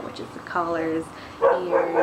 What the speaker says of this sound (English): If you hear the dogs in the background